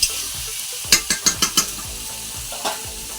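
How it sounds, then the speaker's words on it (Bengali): Marinated food with spices stir-fried in a pan gives a continuous close sizzle punctuated by a quick run of five or six spatula scrapes and knocks against the pan, then one more later. "ভালো করে কষিয়ে বা ম্যারিনেট করতে থাকেন, যতক্ষণ না ভালো করে ক্যারামেলাইজ হচ্ছে ততক্ষণ মিক্স করুন"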